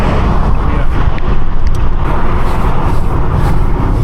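Steady, loud road roar from inside a car overtaking on a UK motorway, a constant broadband rumble of engine, tyres and wind with no distinct events and no speech.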